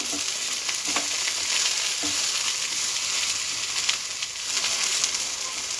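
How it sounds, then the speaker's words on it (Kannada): Okra fries in oil in a pan, a steady close sizzle with a few soft stirring clicks and no talking. "ಇವಾಗ ನೋಡಿ ಇದಕ್ಕೆ ನಾನು ಸ್ವಲ್ಪ ಎಣ್ಣೆ ಹಾಕ್ಕೊಂಡಿದ್ದೀನಿ ಈಗ ನಾನು ಸ್ವಲ್ಪ ಕೆಂಪಾಗೋ ತನಕ ಸ್ವಲ್ಪ ಅದು ಲೋಳೆ ಇರ್ತದಲ್ಲ ಅದು ಸ್ವಲ್ಪ ಲೋಳೆ ಎಲ್ಲ ಹೋಗೋ ತನಕ ಇದನ್ನು ಸ್ವಲ್ಪ ಹುರಿದಿಟ್ಕೋಬೇಕು"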